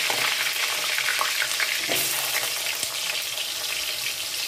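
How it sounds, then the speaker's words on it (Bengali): Potatoes frying in hot oil at home while a Bengali chital fish dish is cooked, giving a steady, loud, dense sizzle with crackling bursts and no talk. "এবার আলুগুলোকে ভেজে নেব।"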